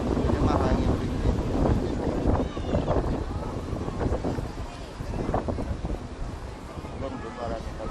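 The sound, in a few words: wind at beach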